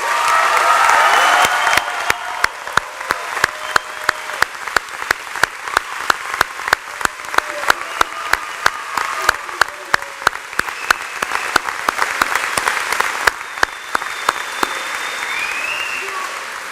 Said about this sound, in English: Mr. Thomas, would you please rise and give him a great ovation?